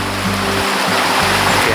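A lively stream lined with alders, ash and willows rushes toward the Almonte river, a loud, steady wash of flowing water close at hand with no pauses.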